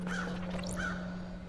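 Crows cawing in the video game Paradise Killer, two drawn-out caws about half a second apart over a low steady background hum.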